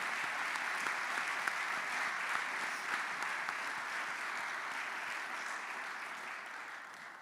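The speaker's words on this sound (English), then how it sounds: "can we just give another round of applause for our honorees this evening" An audience at an alumni hall of fame ceremony gives the evening's honorees a round of applause, a fairly distant, even patter of many hands that slowly fades toward the end.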